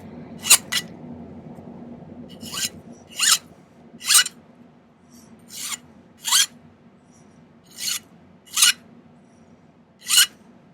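Metal file rasping the ends of a silver cuff bracelet, rounding them off in about a dozen short, bright strokes with pauses between, close and alone.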